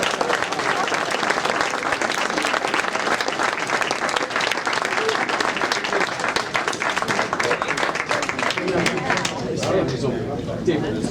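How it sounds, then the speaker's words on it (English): Banquet guests at a sports hall of fame induction dinner clap together in a sustained, lively round of applause, with voices mixed in, until the clapping thins out toward the end. "Now you can clap"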